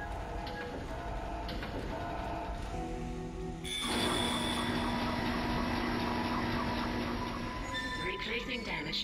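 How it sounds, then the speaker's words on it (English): A tram car arrives in the sci-fi video game Dead Space with rumbling rail noise that swells into a louder mechanical hum and squeal partway through, with a voice speaking over it. "Replacing damaged tram car."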